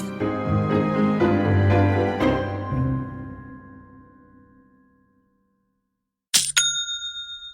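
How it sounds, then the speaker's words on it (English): A sustained musical chord rings out and slowly decays into silence, then a short bright double ding, a Shopify sale notification, sounds with a clear ringing tail. "That's the reassuring sound of another successful sale with Shopify."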